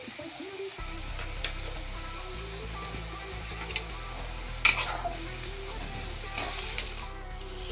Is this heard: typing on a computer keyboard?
no